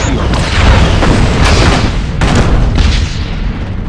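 Sci-fi starship torpedo fire and explosions in a Star Trek versus Stargate space battle, a loud rumbling barrage of deep booms and blasts following one another closely throughout.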